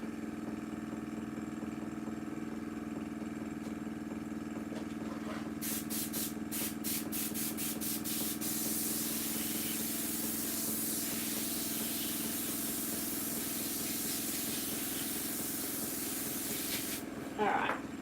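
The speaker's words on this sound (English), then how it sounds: "I need to just let my compressor cool down." An airbrush-style air compressor runs with a constant drone while bursts of blown air hiss loudly across alcohol inks, a pulsing spray starting midway and continuing steadily, with a brief sharper burst near the end.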